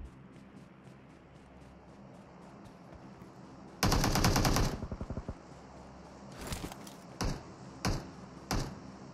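Gunfire in the mobile game PUBG Mobile: a loud rapid automatic burst, then several sharper single shots spaced apart, over a steady low background hum.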